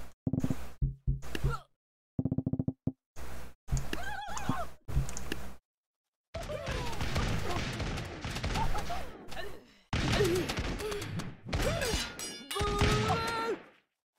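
Blunderbuss shots boom out in the game Totally Accurate Battle Simulator amid a chaotic battle: horses neigh, hooves clatter and a ragged volley of gunfire cuts in and out in loud bursts separated by brief silences.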